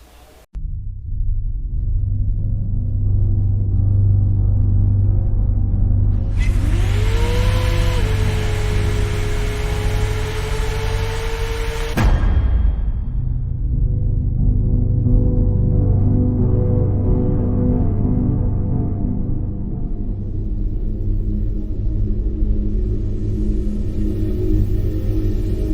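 An all-electric Chevrolet COPO Camaro drives by with a steady low rumble. Midway, a loud rising and then level electric motor whine with broadband noise cuts in and stops abruptly, followed by fading road noise.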